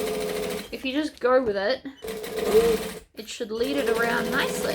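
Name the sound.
sewing machine stitching a bag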